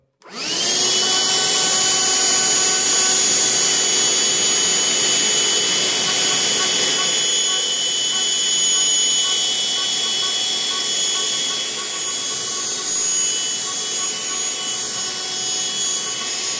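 A Black+Decker Dustbuster cordless handheld vacuum switches on and runs steadily with a loud, close, high-pitched motor whine that holds through the whole stretch, easing slightly partway.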